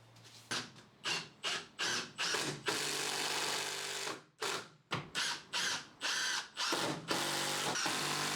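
A power drill backs out 4-inch screws from a plywood truck bed load extender: a run of short, loud whirring bursts, then a long sustained spin, a pause, and more bursts, with no talk.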